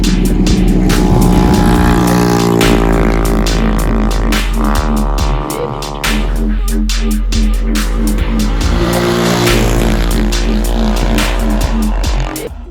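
A Honda car with little rear clearance pulls away with a smoky rear tyre, its engine loud and revving hard under a steady squeal and scrub of rubber, continuous and close with no talking.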